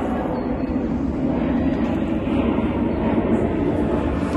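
An airplane passes overhead and is heard as a loud, steady low roar that swells slightly across a few seconds, with no voices.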